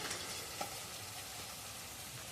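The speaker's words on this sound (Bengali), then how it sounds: "একদম ছাঁকা তেলে আলু ভাজা হচ্ছে" Potato pieces deep-frying in plenty of hot oil for a Bengali Puja feast, a steady dense sizzle that runs continuously without pause and with no voices.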